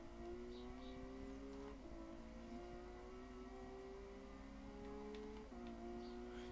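A car engine drones in a video game, steady and faint with the pitch climbing through each gear before dropping at two shifts, and no talk.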